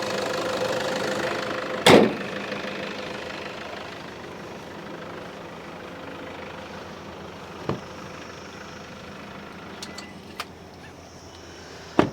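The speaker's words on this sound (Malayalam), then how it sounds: "നല്ല സ്മൂത്തായിട്ടുള്ള വർക്കിംഗ് തന്നെയാണ് എഞ്ചിനുള്ളത്" A 2014 Toyota Fortuner 4x2 automatic with about 107,000 km idles smoothly. Its steady low engine hum runs throughout, broken by a few faint clicks and one brief knock.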